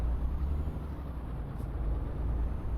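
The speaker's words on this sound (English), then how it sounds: "it sounds like a big truck that doesn't mess around either. That engine is. Sounds like it means business." A big truck hauling a 17-ton trailer in Euro Truck Simulator 2, its engine a deep, steady low-pitched rumble that drones on without change, close and fairly loud, with no talk.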